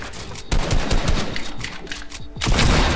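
Rapid bursts of video game gunfire ring out in close, loud volleys, one round after another, with a short gap before a final heavy burst.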